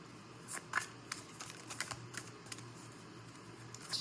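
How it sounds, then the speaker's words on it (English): Tarot cards are shuffled by hand, a run of quick, crisp flicks and taps in irregular bursts, close and fairly quiet, with no voice over them. "So this is way too many cards, so I'm gonna keep shuffling."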